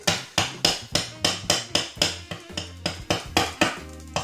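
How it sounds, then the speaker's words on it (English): A hammer strikes a pin into a Steyr L9 A1 pistol chassis, about fifteen sharp metallic taps in a steady, even rhythm with ringing tones, close and loud. "Now I can also hammer the other pin if he wants to go in."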